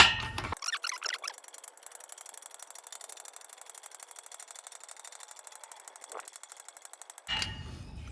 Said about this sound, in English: you're able to stick the same stick into here and slowly jack this up